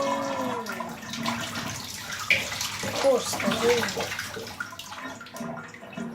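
Water pours and splashes into a flooded Lego build, a running, bathtub-like flow with occasional bubbling gurgles, while a voice speaks briefly over it.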